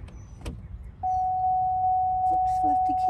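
A steady, loud electronic warning tone from a 2008 Hummer H3 Alpha sounds continuously after a door thump and rustle, signalling the keys left in the ignition, with faint clicks underneath.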